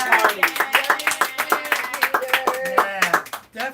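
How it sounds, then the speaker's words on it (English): A small live audience claps and cheers for Peter, the cook who made the sausages and baked ziti, with quick rhythmic claps and voices chattering over the top throughout. "a, you know, round of applause Yes."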